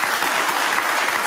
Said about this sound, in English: And they all applaud it